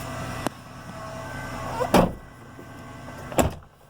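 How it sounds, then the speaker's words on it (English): A used truck's doors are shut, two sharp thuds about a second and a half apart, close by, with a faint earlier knock and some light rattling in between. "I guess I'll have to shut the door"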